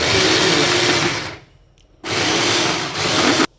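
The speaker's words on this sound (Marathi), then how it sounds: "आता हे आपण चॉपरला छान" An electric chopper coarsely grinds boiled chicken in two loud whirring bursts, with a brief near-silent pause between them and an abrupt stop at the end.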